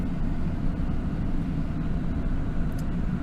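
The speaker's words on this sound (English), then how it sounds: "Just gonna rev it up a little bit, make it a bit easier on the engine." An antique Chrysler land yacht's engine runs at raised revs with a steady, even low rumble, close and constant, with no talking over it.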